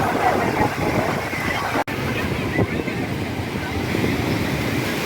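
Sea surf at Puri beach rolls in as a steady broadband wash of breaking waves, with wind buffeting the microphone throughout and a brief dropout near the start.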